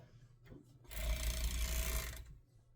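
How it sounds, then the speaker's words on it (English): Sewing machine stitching straps onto a child's top, running alone in one steady, close burst of about a second that buzzes and hums before stopping. "I'm just going to sew so the straps are in there and attached"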